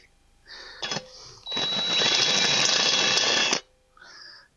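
A worn countersink bit in a power drill deburrs a freshly drilled hole, giving one loud, steady whirring grind of about two seconds, with a short spin-up just before and the motor winding down after.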